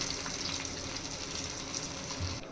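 Fried garlic, onion and dried chilli tempering hits lentil dal with a dense, steady sizzle and bubbling hiss, close and loud for a couple of seconds.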